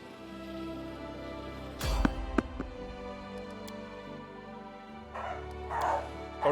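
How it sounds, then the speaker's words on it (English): A dog barks and yips indoors near the microphone, a couple of sharp clustered barks followed by whimpering and further yaps later, over a low hum of computer game music. "Sorry about the dog barking."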